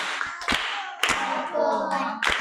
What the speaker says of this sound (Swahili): Tuongeze makofi kwa ajili yake.